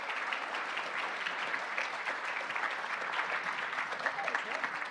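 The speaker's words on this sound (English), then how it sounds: "please, another round of applause for our tech experts here" A convention audience at a summit main stage breaks into steady, sustained clapping, a dense even wash of applause lasting the whole stretch with no pauses.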